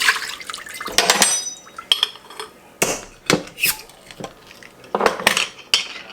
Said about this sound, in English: I'm going to put it in the crock pot.